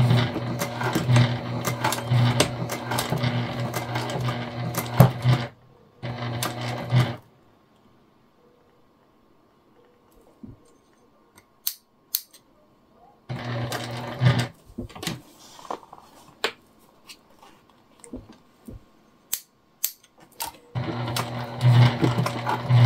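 Sewing machine stitching a clear jelly vinyl bag, bursts of rapid mechanical whirring and needle ticking that start and stop, with quiet pauses and scattered clicks between runs as the sticky vinyl drags.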